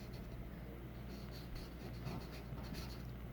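A pencil writes a word by hand on paper at close range, a soft continuous scratching with small strokes and taps, quiet and alone.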